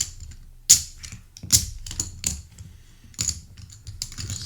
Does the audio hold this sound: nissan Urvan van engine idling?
no